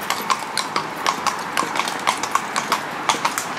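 Hooves of a six-year-old Andalusian mare clip-clop in a steady, even walking rhythm while she pulls weight uphill on a road, close and distinct with no talk over them.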